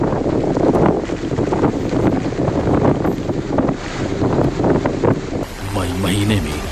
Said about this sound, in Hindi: 170 किलोमीटर की रफ्तार से चलती हवा